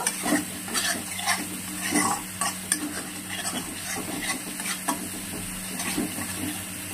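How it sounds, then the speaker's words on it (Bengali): Water splashed into a spice paste frying in a pan for a yogurt pointed gourd curry, producing a close, steady sizzle with repeated stirring scrapes and clinks and no talking. "মশলাটা হয়ে গেছে, এতে সামান্য একটু জল দিয়ে দেব।"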